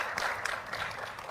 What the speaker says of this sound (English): Maybe we should clap for her, that lady there.